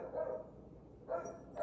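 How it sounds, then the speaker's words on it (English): Three short bursts of dog barking spaced across the moment, fairly close and moderately loud, with no one talking. "the dogs are applauding by barking"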